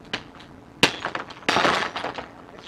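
Glass breaking in several sharp, close crashes and clinks, with a big shattering burst near the start and a longer smash later, followed by scattered tinkling fragments.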